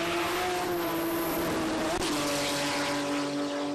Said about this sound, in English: Darren Gary, you can hear the slicks working there off the start line.